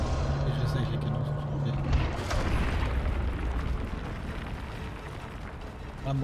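Booming cannon blasts and explosions in Monster Hunter World, rumbling and dense, with a loud burst near the middle and continuous game noise throughout.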